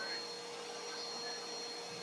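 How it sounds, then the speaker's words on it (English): A household vacuum cleaner runs with a steady, even roar that fills the whole stretch. It is close and constant, with a faint high whine riding on top. "She don't like the vacuum cleaner."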